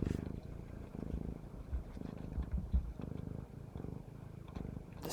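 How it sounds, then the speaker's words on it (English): Domestic cat purring close to the microphone, a soft low rhythmic rumble pulsing steadily over quiet background hiss. "Now, I don't know if you can hear her purring as loudly"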